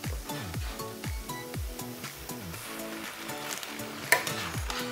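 Shrimp and pasta cooking in a pan as broth is added, giving a steady sizzle and bubbling with stirring clatter throughout and a sharper splash or clink near the end, all fairly close and without talk.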